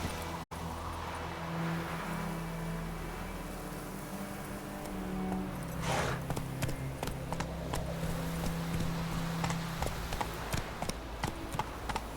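Horse hooves clip-clop at a steady gallop through most of the stretch in The Witcher 3, moderately loud with a low rumble under it and no talk.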